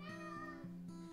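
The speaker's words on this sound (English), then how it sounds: "That's my cat meowing." A cat meows repeatedly in short, drawn-out cries, fairly close and clear, with a steady low hum underneath.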